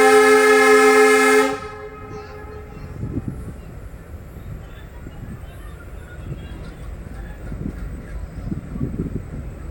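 A Salem to Karur DEMU express train gives a loud sustained horn blast, then runs on with a low steady rumble and rattling underneath, heard from on board.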